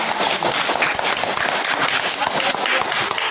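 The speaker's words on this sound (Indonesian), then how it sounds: "Tepuk tangan untuk robot." Pupils in a classroom coding-unplugged robot activity applaud a classmate who played the robot, a dense, steady clatter of many small hands clapping for the whole stretch, with voices mixed in.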